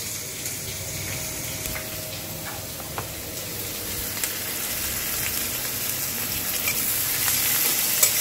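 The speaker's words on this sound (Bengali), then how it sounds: "রসুনটা দিয়ে ভেজে নিলাম, এবার পেঁয়াজ আর কাঁচা লঙ্কাটা দিয়ে দেবো।" Onion and green chillies fry with garlic in a pan, a steady soft sizzle with faint scraping and stirring clicks, gradually growing a little louder, with no talking.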